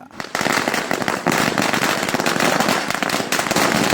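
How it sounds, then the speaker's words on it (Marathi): A dense, loud barrage of large firecrackers bursting in rapid succession during Diwali celebrations, crackling and popping continuously nearby. "फुल मोठे मोठे बॉम्ब फोडायला बघताय"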